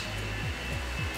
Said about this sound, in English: Ignore the blow dryer.